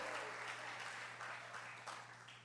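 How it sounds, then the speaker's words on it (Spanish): A church congregation applauds during a sermon on leadership, a steady wash of many hands clapping together that holds its level and eases off slightly at the close. "Dale un aplauso al Espíritu Santo de Dios"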